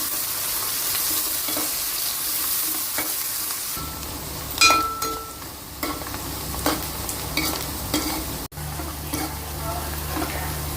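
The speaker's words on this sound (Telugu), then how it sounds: "ఉల్లిపాయ పచ్చిమిరకాయ గోల్డ్ కలర్గా వేగిందండి." Onion and green chili sizzling in a pan for an Andhra goat mutton curry, a steady hiss of frying with occasional scraping stirs and a brief clatter, quiet talk nearby.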